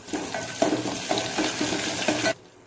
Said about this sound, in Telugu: ఇప్పుడు కరివేపాకు వేసుకోవాలి